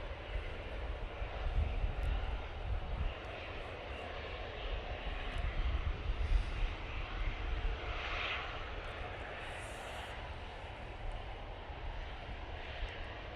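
An airliner's jet engines rumble at Manchester Airport on a windy day, a faint, distant, steady roar with wind noise and no talk.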